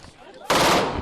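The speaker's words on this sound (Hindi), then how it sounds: "उसके तुरंत बाद वहां गोलियां चलने लगी" Gunfire erupts in news footage of a shooting incident: after a quiet half second, a loud burst of rapid shots and crackle fills the rest of the moment.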